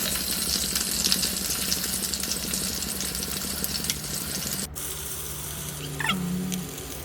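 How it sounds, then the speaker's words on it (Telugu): Green tomatoes softening in a little oil in a pan for a Rayalaseema-style tomato peanut chutney, giving a steady close sizzle and crackle with a brief gap partway through and no voices. "పచ్చి టమోటాలని కాస్త ఆయిల్ వేసి మగ్గనివ్వాలి"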